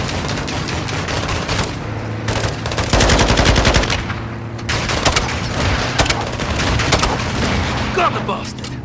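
Sustained light machine gun fire in the Modern Warfare 2 campaign, dense rapid bursts with heavier booms around the middle, continuous through the whole stretch with no voices over it.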